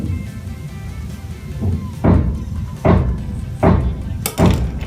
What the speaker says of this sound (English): I am so sorry for that crazy banging background.